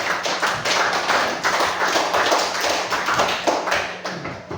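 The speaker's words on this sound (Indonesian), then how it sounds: "Tepuk tangan untuk kita semua" A small group claps hands at a classroom lesson, a steady burst of close, brisk clapping that carries on through the whole moment without talk.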